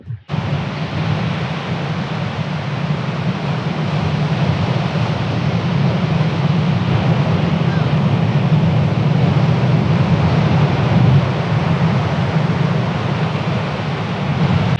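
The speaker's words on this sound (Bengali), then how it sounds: "আমরা এখন খুব কাছ থেকে সমুদ্রের ঢেউ দেখব এবং শুধুমাত্র গর্জন শুনব" Loud, steady roar of sea waves breaking on Cox's Bazar beach, a dense rushing wash that barely changes throughout, with no voices.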